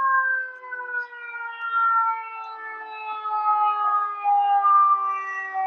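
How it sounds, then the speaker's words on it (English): A loud siren wails steadily nearby, its tone holding and slowly shifting pitch as an emergency vehicle approaches, with no speech over it. "Let's hold off 1 second due to the ambulance coming behind us."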